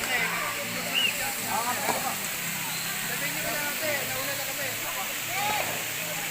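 Steady rushing roar of a waterfall in Los Baños, Laguna, Philippines, constant throughout, with faint voices in the background.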